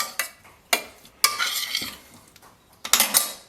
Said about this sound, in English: Stir that together.